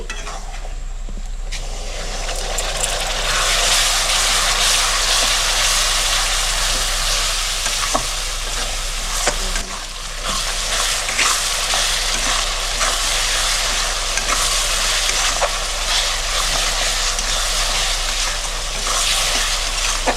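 Tomato paste hits hot frying masala for chicken kosha and sizzles loudly and steadily. Faint stirring scrapes recur throughout, with no talking.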